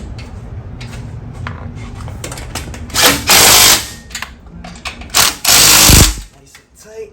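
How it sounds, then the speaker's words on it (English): Ratchet wrench tightening a hinge on a broken garage door, quick clicking bursts interrupted by louder rasping spells of tool noise, close and loud, with low background rumble. "Now we're just tightening that bad boy up."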